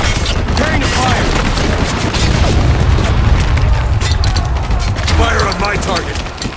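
Mortar barrage in the war shooter Spec Ops: The Line, with loud, continuous booming and rumbling explosions mixed with gunfire bursts, dense and sustained throughout, while voices shout over the battle.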